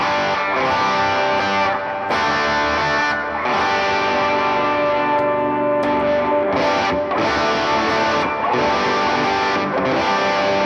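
Electric guitar through a Bell overdrive pedal, playing strummed chords with brief pauses between phrases, a mildly driven, warm tone, loud and continuous, recorded outdoors.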